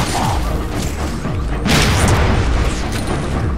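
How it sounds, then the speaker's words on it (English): Grenade explosions in the video game Halo 4 land as a loud booming blast over dense, rumbling battle noise, with a sharp burst near the middle and no talk. "Oh, grenades."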